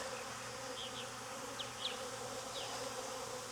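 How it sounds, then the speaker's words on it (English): Steady buzzing of many honey bees close by at a hive entrance, a dense hum with individual insects zipping past now and then, no voices. "there's just a lot of bees, and a lot of bees get feisty"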